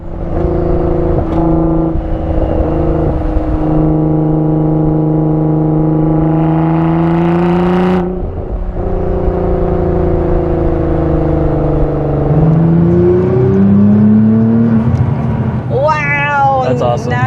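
A Nissan GTR with a modified exhaust, heard from inside the cabin as a loud, steady engine drone that shifts pitch abruptly during revving and downshifts, with a rising burst of revs near the end.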